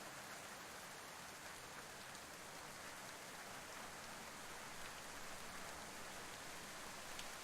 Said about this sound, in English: It's just nice soothing rain sounds.